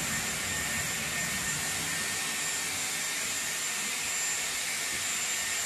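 Dyson Airwrap drying hair with a round-brush barrel, a constant breathy hiss of airflow with a faint high motor whine, close and even throughout, with no voices.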